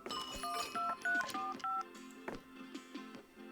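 Phone booth keypad in a video game being dialed: a quick run of about six bright tonal beeps in a steady rhythm, followed by softer clicks and a low lingering tone, fairly close and clear with no talking.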